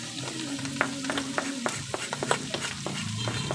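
Pork adobo frying in a pan as pepper goes in, a moderate sizzle broken by frequent sharp scrapes and clinks of stirring, close and busy, without speech.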